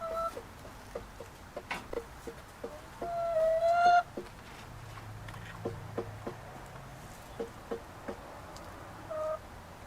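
A hen begging for food clucks in short repeated bursts with a louder squawking call partway through, fairly close, over quiet background rustling in a coop.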